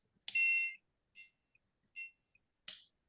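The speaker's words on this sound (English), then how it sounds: "then it flashes and beeps" A home motion sensor that detects body heat gives a loud high-pitched beep, followed by several shorter, fainter beeps at irregular intervals and a final sharp beep, with no talking.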